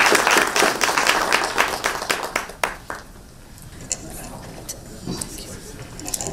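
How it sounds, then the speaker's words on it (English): Audience applause for distinguished speakers at a business summit, a dense wash of many hands clapping that is loud at first, then thins to scattered claps and fades into room murmur. "please join me to make big applause to our distinguished speakers"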